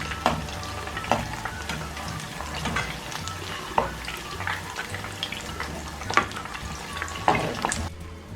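Homemade nimko mix frying in hot oil, a continuous bubbling sizzle close by with scattered clinks and scrapes of a utensil moving the pieces, steady and moderately loud without talk.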